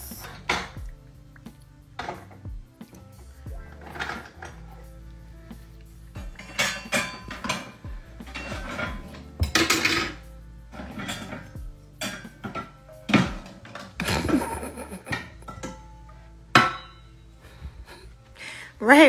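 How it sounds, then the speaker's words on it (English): Metal pots and pans clatter and clank in a string of sharp, irregular hits, with drawers and utensils rattling between them; voices are heard briefly. "where are you taking the pots and pans?"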